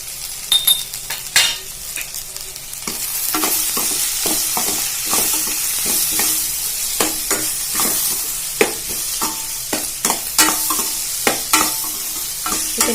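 Vegetables sautéing in a pan for a leftover rice dish with garam masala, a loud continuous sizzle broken by frequent metallic clinks and scrapes of a spoon stirring throughout.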